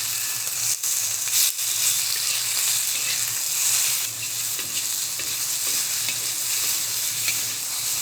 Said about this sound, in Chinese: 瘦肉进锅，摊开，先煎后炒